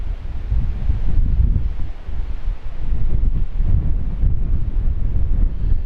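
Strong 40mph gusts batter a microphone outdoors during a drone flight, producing loud, low rumbling buffets that surge and ease in uneven waves without a break.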